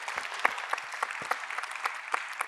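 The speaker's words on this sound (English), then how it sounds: "I just want to give another huge round of applause for all of you guys" Audience applause at the close of a final conference session, a steady patter of many hands clapping at moderate volume, with no voices over it.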